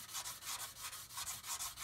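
Steady back-and-forth hand sanding of a surface while buffing out high spots, close and fairly quiet, in an even rhythmic scrubbing pattern without speech.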